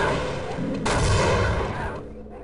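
A grenade bursts in the video game Half-Life: a sudden loud, close boom that rolls into a dense, rumbling tail over a constant backdrop of noisy game sound.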